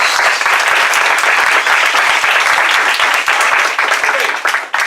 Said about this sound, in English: can we just applaud every Distinguished Toastmaster in this room?